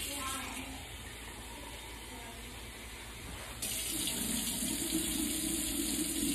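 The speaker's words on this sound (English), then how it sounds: "Warm water." Warm water gushes steadily from a kitchen tap while bread is being made, a continuous close rush that grows louder and fuller partway through.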